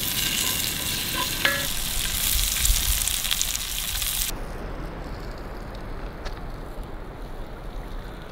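African-style sausage frying in a pan outdoors by a lake at dinnertime, a dense continuous sizzle and spatter that drops to a quieter, steadier hiss partway through, with no talking.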